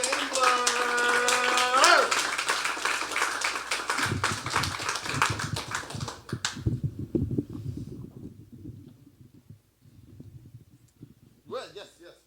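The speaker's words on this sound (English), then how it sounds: "start clapping for our first featured poet for the evening, Miss Maryam Chambler." Clapping from a small audience at a military poetry night welcomes the first featured poet, rising under a voice and then tapering into scattered claps amid quiet room noise.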